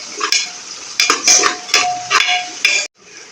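A spoon stirs whole spices in a cooking pot: several loud scraping strokes rasp across the metal in an uneven rhythm close by, then stop abruptly, leaving a faint hiss.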